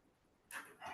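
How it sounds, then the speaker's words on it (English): A very old dog gives two short, hoarse barks in quick succession after half a second of near silence, faint and somewhat distant, with no one talking. "If you hear barking that sounds somewhat like dying, that's a very old dog."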